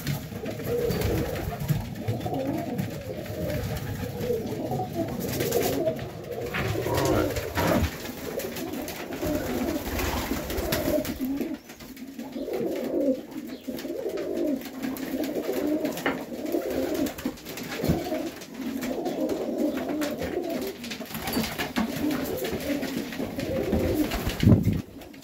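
Highflyer pigeons coo in Melbourne, Australia, with soft repeated throaty calls that run continuously throughout, close by and moderately loud, mixed with light rustling and background noise.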